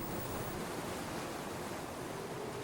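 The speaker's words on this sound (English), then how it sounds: "Back on the surface, the southerly wind is picking up." Southerly wind and waves at sea, a steady, dense wash of broadband rushing noise with no breaks, heard alone and fairly close, like surf and wind buffeting together.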